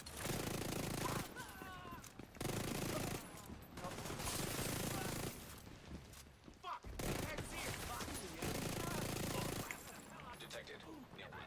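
SMG gunfire in The Division 2, a Striker weapon firing in long rapid bursts separated by short gaps, loud and close, with game voice lines and talk faintly underneath.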